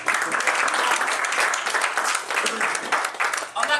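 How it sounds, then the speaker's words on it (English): A wedding crowd breaks into dense, loud applause for a guest, a close, continuous roar of many hands clapping that fills the whole stretch without letting up and eases slightly at the very end. "Chris Canal, you give him a big applause."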